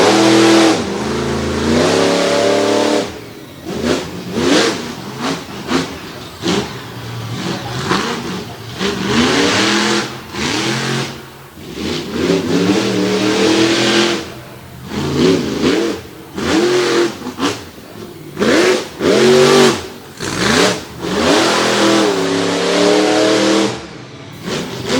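A monster truck engine at a track in Winchester revs repeatedly in loud surging bursts, rising and falling in pitch as the truck hits jumps, with an announcer's voice under the roar.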